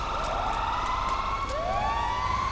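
Several fire engine sirens in GTA 5 wail together at moderate volume, one rising sweep following another over a steady background rumble.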